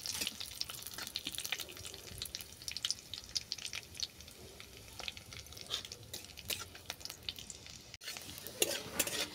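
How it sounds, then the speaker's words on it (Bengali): Dried red chillies and white cumin seeds fry in hot oil with a steady crackling sizzle and light stirring scrapes, close and alone, with a short break near the end. "লঙ্কা জিরেটা আমি প্রথমেই ভালো করে ভেজে নেব।"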